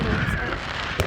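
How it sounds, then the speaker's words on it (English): Fireworks burst outside a cobblestone hotel, heard as a steady loud crackling wash with one sharper bang near the end, and no clear talk over it. "look at the fireworks"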